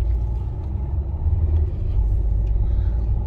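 A car drives along a town road during a driving lesson, its steady low engine and tyre rumble heard from inside the cabin, constant and fairly loud.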